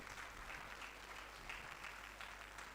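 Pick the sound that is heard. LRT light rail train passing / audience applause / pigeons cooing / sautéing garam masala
audience applause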